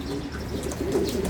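Soft, low cooing from a pigeon or dove close by, a steady murmuring call running through the whole moment with faint chirps above it.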